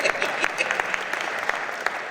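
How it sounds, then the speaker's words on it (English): Veterans panel audience at a senior services event clapping steadily for about two seconds, with sharp, dense claps from a mid-sized crowd in a hall. "clap for that too"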